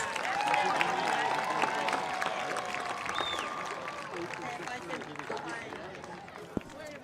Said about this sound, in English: Ladies and gentlemen, another round of applause for our girls golf team